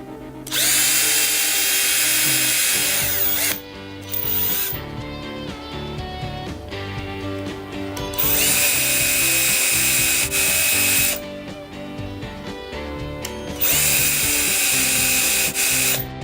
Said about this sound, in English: I'm going to take my drill and I'm just going to make a hole